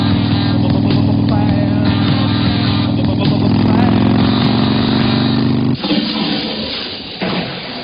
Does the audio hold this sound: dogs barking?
no